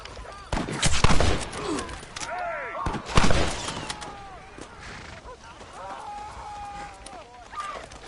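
Gunfire in Red Dead Redemption on PS5 breaks out in a couple of loud, sharp bursts, with several rapid cracks early and another heavy volley midway, then quieter game ambience while voices talk.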